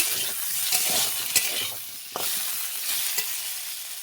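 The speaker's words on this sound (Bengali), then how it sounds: "আলুগুলো ভেজে নিয়ে একটু তুলে নেব" Potatoes frying in hot oil, a steady close sizzle with occasional stirring scrapes and small clinks throughout.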